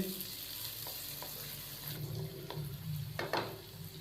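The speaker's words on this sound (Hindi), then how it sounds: "और इन सब्जियों को हम अच्छे से मिक्स करेंगे और 1 से 2 मिनट के लिए हम मज़ीद इसको भून लेंगे" Chopped vegetables are stirred and fried in a pan, with a soft steady sizzle broken by several quiet scraping strokes of the spoon against the pan.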